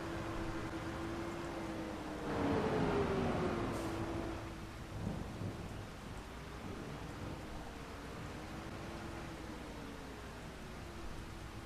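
Rain in Farming Simulator 25: steady hiss with a low rumble of thunder swelling midway, then fading back to constant rainfall and a faint tonal drone.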